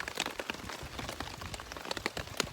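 Heavy rain pours steadily outdoors in southeastern Oklahoma as a thunderstorm moves in, a dense, continuous hiss with scattered louder drops spattering nearby.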